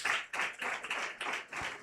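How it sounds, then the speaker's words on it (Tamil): A church congregation claps hands in thanks to the Lord, several quick bursts of applause in an irregular rhythm, moderately close and fairly soft, with no talking over it. "ஒரு கைத்தட்டி கர்த்தருக்கு நன்றி சொல்ல மாட்டீங்களா?"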